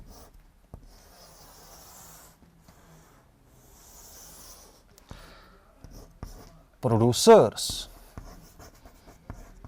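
Chalk or marker scratching on a classroom board in short strokes, with a loud burst of quick scribbles near the end, heard close alongside a teacher's speech.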